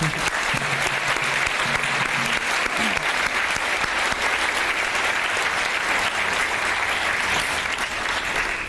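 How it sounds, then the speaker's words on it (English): Large crowd at an outdoor Orange Shirt Day ceremony at Camosun College giving a long, steady round of applause, dense clapping throughout with faint voices beneath. "So let's give them a round of applause."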